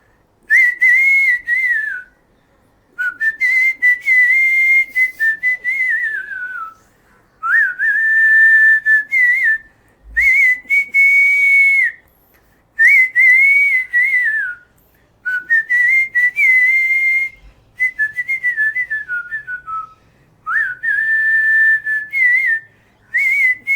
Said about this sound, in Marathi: आणि मंगलाष्टका पण मी शिट्टीत वाजवतो.